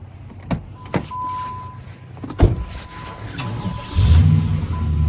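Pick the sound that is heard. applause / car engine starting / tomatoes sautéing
car engine starting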